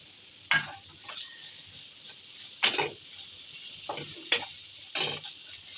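Chicken pieces frying with ground cumin and garam masala, a low background sizzle punctuated by several sharp stirring scrapes and spatula knocks at irregular intervals.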